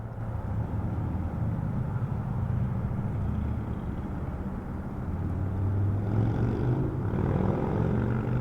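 A Boeing 767 jet taking off in San Diego, a loud, steady, broadband engine roar that holds throughout and swells slightly near the end, with no voices over it.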